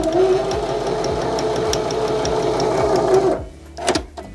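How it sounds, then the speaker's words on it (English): A Baby Lock sewing machine runs steadily while stitching a buttonhole, giving a close, continuous mechanical whir with a regular ticking rhythm for about three seconds before stopping, followed by a couple of soft clicks. "we're just going to hold the foot control down until we complete the entire buttonhole."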